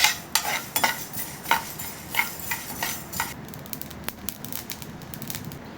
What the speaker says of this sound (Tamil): இது மூணையும் நம்ம ஒன்றா சேர்த்து வறுத்து எடுத்துக்கலாம்